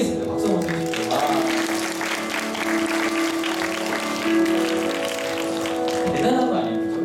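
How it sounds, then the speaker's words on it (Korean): A Korean church congregation at Sunday worship applauds, a dense, sustained wash of clapping that lasts throughout, with a sustained tone and brief vocal sounds or murmurs mixed in. "박수 한번 쳐주세요."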